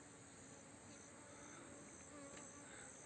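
Honeybees kept in hives built into the walls of a village house hum in a faint, continuous buzz at a distance, steady throughout with no voices.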